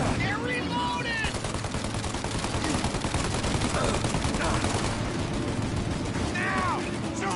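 Continuous exchange of gunfire in the Mafia Definitive Edition video game, dense rattling shots and machine gun bursts throughout, with voices shouting over the shooting.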